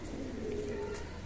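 A handsome show pigeon coos close by, a low continuous throaty burble with a faint rising note in the middle, over light background chatter of other birds.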